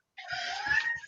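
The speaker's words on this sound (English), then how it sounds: "She's just meowing every time she jumps on something." A cat gives a single short, faint meow, a brief drawn-out cry lasting about a second in a quiet indoor room.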